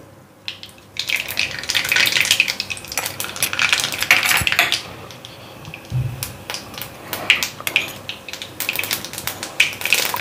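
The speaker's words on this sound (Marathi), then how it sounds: "आता तेल तापलेलं आहे, त्याच्यामध्ये मी आता घालते मोहरी घालते." Mustard seeds crackle and sizzle in hot oil in a pan for a Marathi-style baby potato bhaji, a steady close frying hiss dotted with sharp pops and spattering crackles, with no talking.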